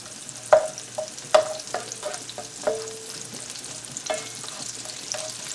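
Chopped onion frying in bacon grease gives a soft, continuous sizzle under repeated spoon taps and scrapes against the pan, spaced irregularly, with no talking.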